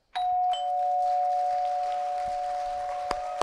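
A single electronic doorbell chime rings out with a sustained, ringing tone that slowly fades, followed by a faint click near the end.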